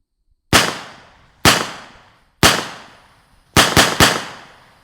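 A SilencerCo Spectre 9 fires unsuppressed from about 25 to 30 yards away, giving five sharp, loud cracks: three spaced a second apart and then a quick pair, each trailing off in a short echo.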